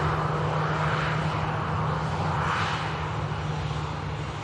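A Scandinavian airliner arriving at Manchester Airport makes a steady engine roar, moderately loud and swelling slightly partway through, heard at a distance outdoors with no talking.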